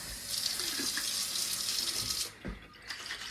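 Hot tap water pours into a nearly empty barbecue sauce bottle to rinse out the last of the sauce, a steady close hiss of running water that stops briefly and then resumes.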